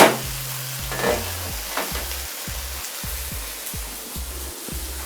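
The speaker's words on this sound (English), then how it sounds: "Keep stirring it." Beef stew with tomatoes being stirred in a cooking pot gives a steady, close scraping and bubbling hiss for several seconds, with a soft low hum running underneath.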